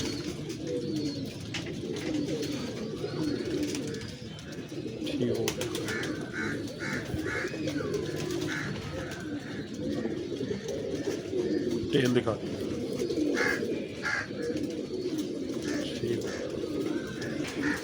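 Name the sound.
pigeons cooing at a breeding setup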